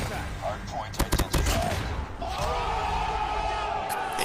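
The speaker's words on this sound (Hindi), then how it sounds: "तो फिर गोलियां चलाता जाता है" A short volley of sharp automatic gunfire bursts in Call of Duty Mobile, with rapid cracking shots near the start followed by mixed game noise and a voice talking over it.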